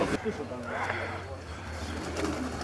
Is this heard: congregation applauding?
no